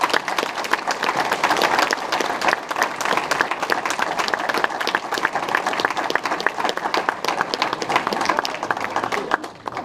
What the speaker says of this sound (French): merci d'applaudir, Roselyne Gossel.